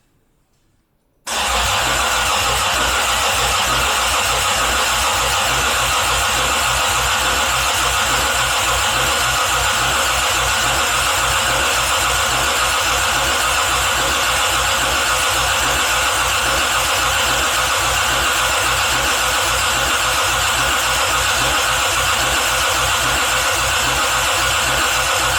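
Swapped 5VZ engine in a 1994 2WD pickup cranking and catching after a moment of quiet, then settling into a loud, steady idle that runs evenly to the end.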